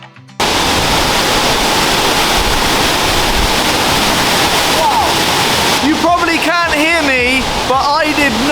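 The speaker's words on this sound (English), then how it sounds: "There's a massive waterfall here!" A massive, powerful waterfall crashing inside a sea cave on the Scottish coast, a loud continuous roaring wash that fills the scene throughout, with a person talking over it toward the end.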